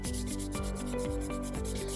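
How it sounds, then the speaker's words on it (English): Steady close rubbing of sandpaper over clear-coated paint on a car side mirror, a continuous rhythmic back-and-forth scrubbing with no speech. "And as we are sanding,"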